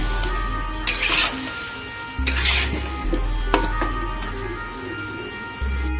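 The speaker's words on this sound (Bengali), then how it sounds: "টমেটোটা দিয়েও এবার আরও পাঁচ মিনিট আমি কষিয়ে নেবো" Mutton with tomato sautéing in a pan, a soft continuous sizzle broken by a few scraping strokes of a spatula stirring, with a low steady hum underneath.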